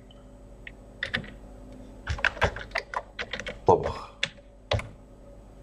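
Typing on a computer keyboard, with bursts of close, sharp key clicks in an irregular rhythm while a person speaks briefly.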